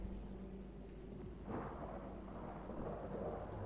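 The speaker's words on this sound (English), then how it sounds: "Not with these storms." Thunder in a Mass Effect Andromeda storm rolls low and deep under a constant dull roar, with a heavier crack and rumble swelling partway through.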